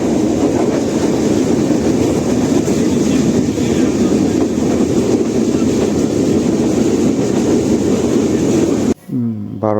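A passenger train on the Dhaka to Thakurgaon route rolls along the rails with a loud, continuous rumble and rattling wheel noise, close by, ending abruptly in a brief quieter moment.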